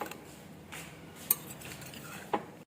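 Chana chaat stirred with tamarind chutney in a bowl, a quiet soft scraping with two sharp clinks of a spoon against the dish, faint and close, no voices.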